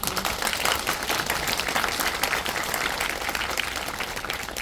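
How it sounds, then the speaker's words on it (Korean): Applause from a theater audience at a Korean film talk event for 12.12: The Day, a continuous, moderately loud patter of many hands that holds steady with no voices on top. "박수 한 번 더 부탁드릴게요"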